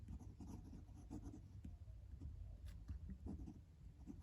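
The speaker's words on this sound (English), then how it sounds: "And do a quick writing sample." Pilot Custom 845 Urushi fountain pen with an 18 karat gold fine nib writing on paper, a faint, close scratching with irregular short strokes and brief pauses, alone without talk.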